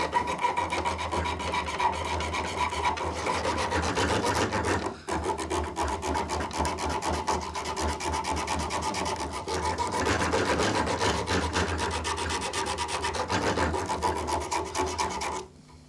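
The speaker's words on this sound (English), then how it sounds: "What I'm using is just some fabric backed sandpaper, just a thin strip of it" Fabric-backed sandpaper rasps back and forth over a horn nock on a longbow, a close, steady rhythmic scratching that pauses briefly once and then resumes.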